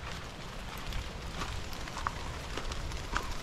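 Rain falls outdoors during a thunderstorm, a steady hiss of drops with a few sharper spatters standing out, and no voices.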